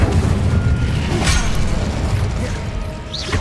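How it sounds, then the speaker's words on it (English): Confringo blasting spell bursting in Hogwarts Legacy, a loud sharp explosive crack near the middle over dense, rumbling game noise, with a brief whooshing tail trailing off toward the end. "Confringo"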